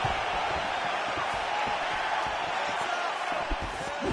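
Dense, steady arena crowd roar from the fighting game UFC 4, a continuous loud wash of cheering with small swells and thumping impacts running beneath it.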